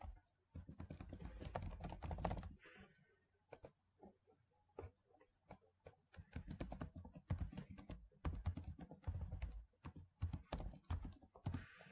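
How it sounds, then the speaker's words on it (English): Typing on a computer keyboard in bursts of quick, close key clicks, with short pauses between runs of keystrokes. "So what you can do, you can type different things."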